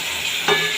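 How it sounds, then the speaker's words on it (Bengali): Chicken pieces sizzle in a hot pan and are stirred by hand, a steady close frying hiss with a brief louder scrape near the end. "হালকা হালকা হাতে নাড়াতে থাকবো, তাহলে না চিকেনটা এর সাথে ভাজা ভাজা হয়ে যাবে।"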